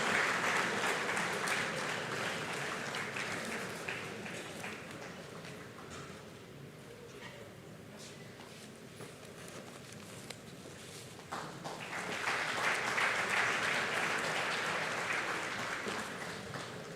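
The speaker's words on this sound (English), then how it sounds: "I'd urge you to keep clapping." A large audience at Nigeria's democracy anniversary celebration applauds steadily; the clapping dips through the middle, mixed with shuffling footsteps of a long walk, then swells loud again near the end.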